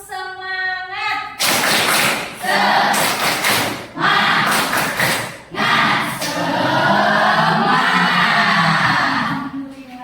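A school class performs a rhythmic 'tepuk semangat' clapping ice-breaker, loud bursts of group claps and thumps in patterned rounds, with children's shouts and chanting voices mixed in.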